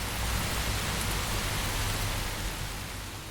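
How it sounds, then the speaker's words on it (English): Heavy rain pours as a steady, dense hiss with a low rumble beneath, a continuous atmospheric layer for a rainy Cyberpunk 2077 city scene, fading slightly toward the end. "The next layer for the atmosphere is about heavy rain."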